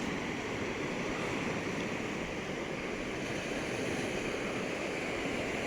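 Atlantic surf rolling onto a volcanic black sand beach at Callao Salvaje, Tenerife: a steady, broad wash of breaking waves with no clear gaps, moderately close and continuous, with no talk over it.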